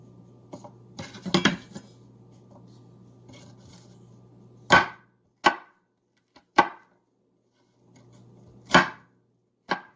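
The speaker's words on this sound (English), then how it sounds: "now it's ready to be minced like this" A knife mincing peeled garlic on a cutting board while making cottage pie gives about half a dozen sharp, separate thuds and scrapes, spaced irregularly, with quiet gaps between and no talking.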